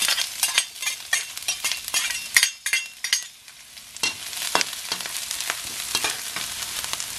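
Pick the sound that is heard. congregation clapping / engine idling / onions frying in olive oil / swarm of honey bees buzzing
onions frying in olive oil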